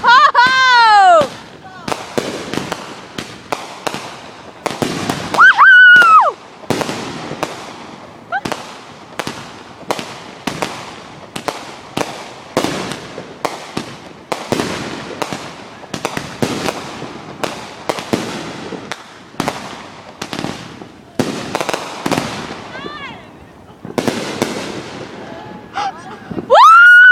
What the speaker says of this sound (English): Oh, we just gotta wait for more fireworks.